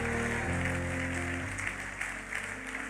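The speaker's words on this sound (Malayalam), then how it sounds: "ഒന്ന് കൈയടിച്ച് കർത്താവിന് നന്ദി പറഞ്ഞേ" A church congregation claps together in thanks during a Malayalam Christian sermon, a steady, sustained wash of applause filling the hall, moderately loud and continuous.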